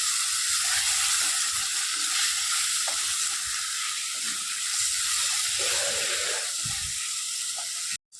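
Goat liver, washed with turmeric and salt, goes into a hot pan and sets off a steady, close sizzle and hiss with light stirring scrapes, ending in a sudden cutoff.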